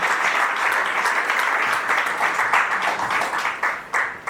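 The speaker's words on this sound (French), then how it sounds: "On acclame le Seigneur ce matin." A church congregation applauds with steady, dense clapping throughout, the rhythm loosening and fading slightly toward the end.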